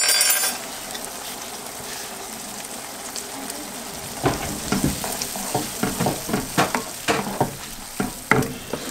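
Garlic goes into a pan already holding tomato pulp and a splash of water. After a quieter stretch, a close sizzle rises, broken by rhythmic scraping and clattering bursts as it is stirred.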